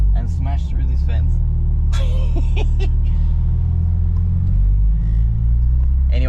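An RB30-powered Holden VL car is driven, and its engine gives a steady, loud low rumble from inside the cabin. Someone talks over it throughout.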